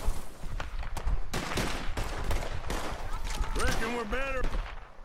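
Rapid volleys of gunfire from Red Dead Redemption 2 during a fight with the O'Driscolls, loud sharp cracks and bursts repeating throughout, with a few brief whistling, ricochet-like tones near the end.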